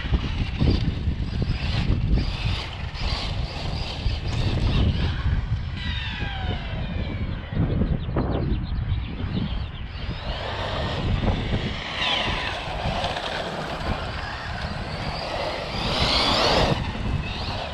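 A LOSI Polaris RZR radio-controlled car runs under throttle, its electric motor giving a steady, close whine that rises and falls in pitch as it accelerates across the whole stretch.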